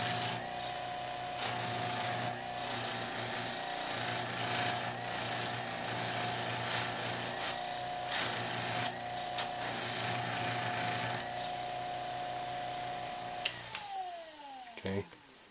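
A buffing wheel spins against a bass clarinet mouthpiece, giving a steady high whine with a tonal hum that runs continuously, then cuts off near the end as the motor winds down.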